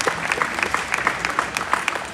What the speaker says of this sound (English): How about a round of applause to our reserve champions?